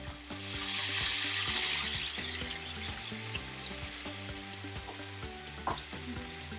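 Chicken wings deep frying in hot oil give a loud, dense crackling sizzle that swells early and then settles into a steady bubbling hiss, with a repeating low rhythmic thumping beneath it.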